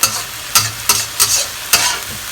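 Pork stir-frying in a pan for a Chinese rice dish, with a steady sizzle broken by five sharp scraping strokes as the meat is pushed aside, close and fairly loud.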